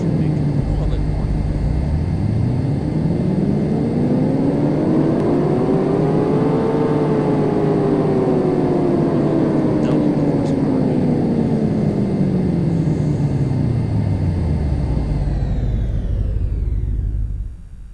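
A V6 engine in a video game revs through a power test, climbing steadily in pitch to a peak and then winding back down in one long, loud, continuous drone before cutting off abruptly.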